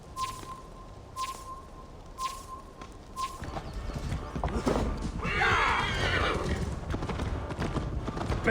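In the Assassin's Creed Valhalla video game, four evenly spaced hoof clops sound first, then a horse whinnies loudly in the middle as hooves and movement swell, followed by quieter trotting.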